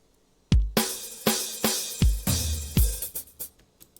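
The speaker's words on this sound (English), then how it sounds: "the next thing I added here was a drum break" Punchy drum break from an Afrobeats beat with ogene flavour, a run of hard, deep-booming hits in a syncopated pattern that speeds into quicker fills, played alone.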